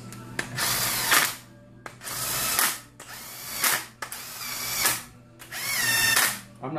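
A power tool drives bolts into the valve body of a CD4E automatic transmission, sounding in four or five loud, whirring bursts of a couple of seconds each with short pauses between them.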